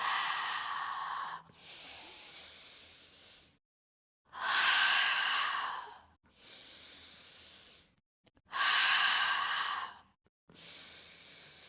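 Slow, heavy exhalations during a yoga mat flow, four long airy breaths with short pauses between them, close and fairly loud with no talking.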